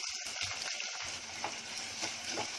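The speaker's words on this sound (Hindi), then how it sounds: "अब इसकी सुनहरी रंगत आने तक इसको भूनूंगी" Whole onion frying in oil in a pan, a steady close sizzle with faint crackles and a few soft stirring scrapes, no voices.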